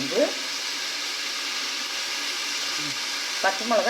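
Mint leaves and green chillies sizzle in hot ghee for a millet biryani, a steady even frying hiss throughout with brief stirring scrapes near the start and end.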